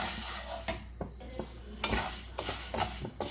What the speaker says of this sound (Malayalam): ഇതും ഇതിലേക്ക് ഇട്ടിട്ട് നമുക്കൊന്ന് നല്ലപോലെ ഒന്ന് റോസ്റ്റ് ചെയ്തെടുക്കാം